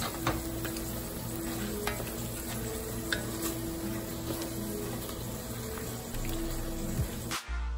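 Spinach, carrots and oxtail sizzle steadily in a pan while being stirred, a constant frying hiss with occasional scrapes and clinks of the utensil against the pan, close and even, ending abruptly.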